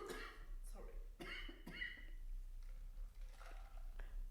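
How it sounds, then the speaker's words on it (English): A few short, sharp coughs close by, with quiet voices murmuring in between against a low steady hum. "Camera person just having a little cough."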